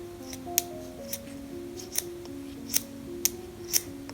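A pencil is scraped with a Høvel sharpening plane: sparse short crisp scraping strokes, about six or seven over a few seconds, close and fairly quiet over a low steady hum.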